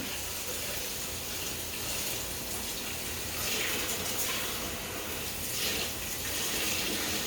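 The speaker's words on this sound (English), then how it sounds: "it's amazing listening to that water run." Cold water pours steadily from a tap into a rice cooker pot, a continuous rushing splash with slight surges, no one speaking.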